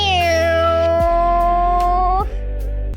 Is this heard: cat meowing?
yes